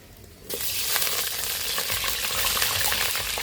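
Potato pieces go into hot oil in a wok and burst into a loud, steady sizzle that starts abruptly and holds continuously, with a dense crackle throughout and no talking.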